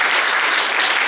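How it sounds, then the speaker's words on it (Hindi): College students at an NSS motivational session clap together in a short, loud, dense burst of applause lasting about a second. "तो ताली बजाइए।"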